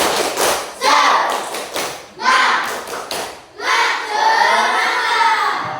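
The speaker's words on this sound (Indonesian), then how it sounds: "Tepuk semangat." A class of primary school pupils does a rhythmic spirit clap, several bursts of patterned group clapping mixed with children's voices and shouts, with talking between the bursts.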